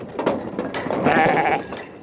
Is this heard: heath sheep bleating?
yes